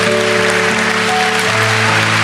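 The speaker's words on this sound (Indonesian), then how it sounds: "Kasih tepuk tangan untuk Tuhan." Congregation applause at a church devotional service fills the space with a dense, steady wash of clapping over sustained organ or keyboard tones, loud and continuous throughout.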